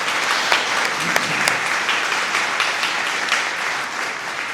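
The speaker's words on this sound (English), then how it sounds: "please give our staff a round of applause" An audience at a Black History Month celebration applauds the event staff, steady clapping filling the room for several seconds with a few sharper claps standing out near the front.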